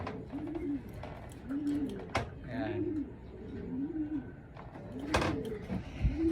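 Racing pigeons cooing close by in a loft ahead of training, repeated soft rolling coos every second or so with a few sharp knocks and faint background voices.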